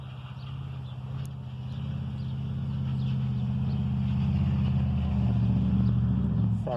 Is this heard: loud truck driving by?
yes